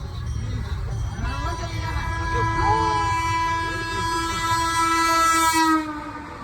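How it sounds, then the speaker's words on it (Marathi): A train horn blares long and loud with a steady rumble of rolling wheels beneath, close by; a voice briefly speaks under the noise. "ट्रेन तर चालली आहे पुढं"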